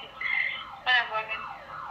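An alarm goes off at a house party on a prank call, a wavering electronic wail that swells and dips, loudest in a burst midway through, heard alone without talk.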